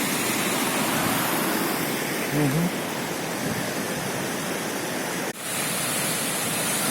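Loud, steady rush of fast-flowing water filling the whole clip, with a brief murmured voice near the middle.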